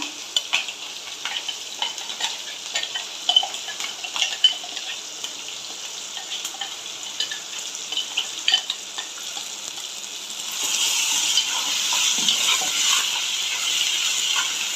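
Chicken curry masala paste of ginger, garlic, onion and coconut with curry leaves frying in a pan: a steady close hiss with small crackles and occasional stirring taps, the sizzle swelling louder near the end.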